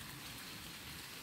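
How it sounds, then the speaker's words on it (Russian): Dense, steady hiss of summer rainfall pattering on surfaces at a country house with an outdoor pool, even and unbroken. "Дождик."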